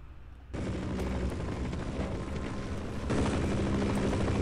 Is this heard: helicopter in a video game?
yes